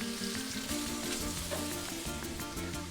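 Ground beef frying in a pan, a steady, moderately close sizzle with light crackle and occasional stirring scrapes, no voices.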